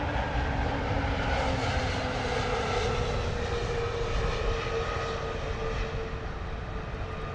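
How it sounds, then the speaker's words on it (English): A new KLM Airbus A321neo jet from Amsterdam lands at London Heathrow, a loud, continuous engine roar with a steady whine running across the whole stretch, close and unbroken. "A321 Neo KLM coming in hot from Amsterdam. Lovely touchdown."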